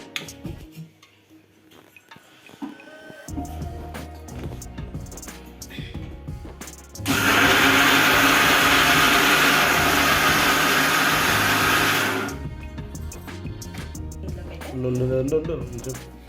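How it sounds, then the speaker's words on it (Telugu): A kitchen mixer grinder grinds bottle gourd pieces with water for dosa batter, running loud and steady for about five seconds between quieter stretches of clinks, handling and talking. "మళ్ళీ దాన్ని కొంచెం వాటర్ వేసి మిక్సీ పట్టేద్దాం"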